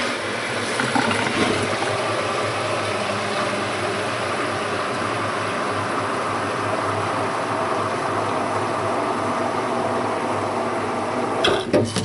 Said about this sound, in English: I'm gonna put my water in here.